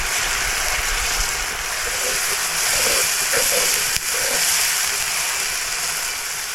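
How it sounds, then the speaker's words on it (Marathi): Ground masala paste with red chilli frying alongside browned onions in a pan for a Konkani prawn curry, giving a steady, loud broadband sizzle and hiss that holds for several seconds with faint clinks and stirring, no voices. "आता आपल्याला ह्याच्यात हे वाटण टाकायचं आहे आणि वाटण हे चांगलं असं फ्राय करून घ्यायचं"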